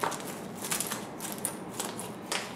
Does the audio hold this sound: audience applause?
no